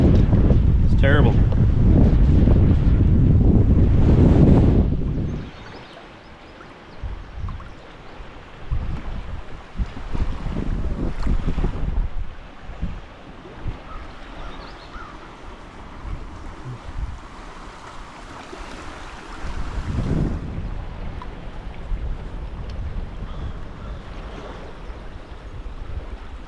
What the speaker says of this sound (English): Man, that wind's blowing today.